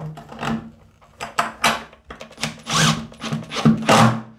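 A power drill drives screws through tile into timber while a shower grab rail is installed, in short whirring bursts that rise and stop repeatedly, close and fairly loud.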